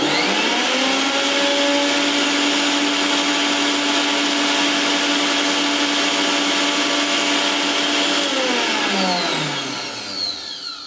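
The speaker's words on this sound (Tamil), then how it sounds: "என் வீட்டில் உள்ள கவர்மெண்ட் மிக்ஸியை நான் இப்போ வந்து உங்களுக்கு ரன் பண்ணி காமிக்கிறேன்" A government-issued mixer grinder runs on a computer UPS, a loud steady whining motor hum held for most of the stretch before spinning down in pitch near the end, with no talking.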